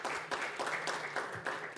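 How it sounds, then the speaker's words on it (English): Audience at a marketing conference in Dubai giving a round of applause, brisk clapping in bursts that stays close and steady over the short span. "really a huge round of applause for you"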